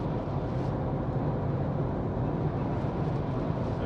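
Even, broadband rumble of an Isuzu 4JJ1 diesel cruising at around 100 in sixth gear, steady and moderately loud with road and wind noise, no speech.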